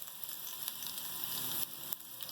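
Hot oil sizzling as a ginger tempering (bhagar) is poured over nihari, a steady bright crackling fry with a few sharper pops, fairly quiet and without talk.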